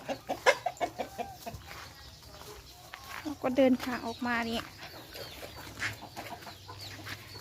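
Chickens cluck in short, repeated bursts near a farm coop, fairly close, while someone talks over them.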